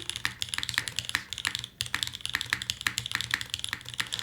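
Rapid typing on a mechanical keyboard fitted with alpha keycaps, heard up close as a dense, steady run of crisp clacks with occasional heavier thocks, continuing with no talking.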